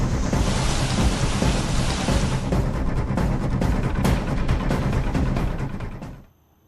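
Heavy monsoon rain hisses loudly and steadily in a hilly region during flooding, with thunder cracking sharply partway through before the sound cuts off abruptly at the end.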